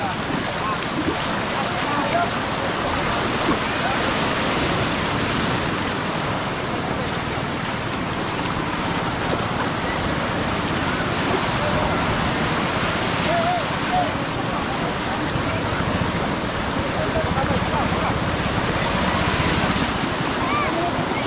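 Sea water current washing along the shore, a continuous loud rush of surf and wind noise with no pauses.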